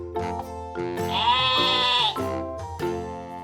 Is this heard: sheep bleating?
yes